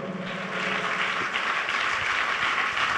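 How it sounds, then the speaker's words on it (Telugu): A congregation claps together at a Good Friday church service, a steady dense wash of applause that holds evenly through the whole moment. "అందరూ సంతోషంగా చప్పట్లు కొడుతూ దేవుని మహిమపరుద్దాం"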